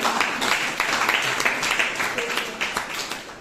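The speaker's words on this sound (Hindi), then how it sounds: "तो उनके लिए सभी आप लोग तालियां बजाइए एक बार में" A college audience at a speech competition claps for student speakers: dense, continuous applause of moderate loudness lasting the whole stretch, with voices mixed in.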